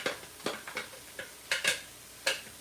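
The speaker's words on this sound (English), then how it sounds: "I'm going to let it fry for a little bit." Onions frying in a pot for Jamaican rice and peas, with soft sizzling broken by a string of light scraping stir strokes and a few sharper clicks of a utensil against the pot, heard close and fairly quiet.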